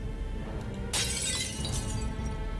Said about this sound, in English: The enchanted hammer smashes the mirror with a resounding crash.